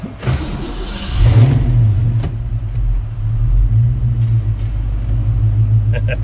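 A 1988 Saleen Ford Mustang 5.0 with a five-speed manual cranks over and fires up, settling into a loud, close, steady rumbling idle with a brief rev, while people talk around it.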